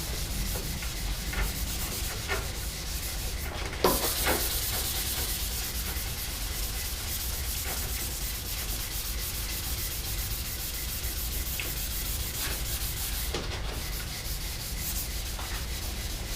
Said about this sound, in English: So I just get my little sanding sponge and just sand off those marks